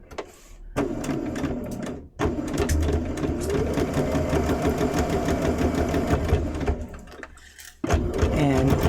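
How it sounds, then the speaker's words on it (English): A sewing machine stitches pinned quilt block pieces together in steady, loud continuous runs with brief pauses and restarts, close up and alone. "And then we're going to just sew them in."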